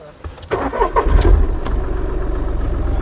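A Volkswagen Polo car engine cranks briefly, catches with a loud burst, then settles into a steady, rhythmic idle close by.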